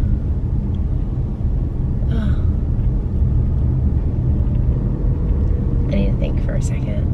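Low steady engine drone and road rumble fill the inside of a moving car, constant and close throughout, with people talking over it.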